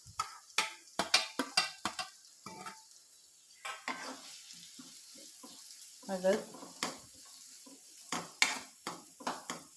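Onion and green chili sauté in a pan, with intermittent scrapes and clinks of a spoon stirring against metal, some short and sharp, some longer, and a brief spoken word in between.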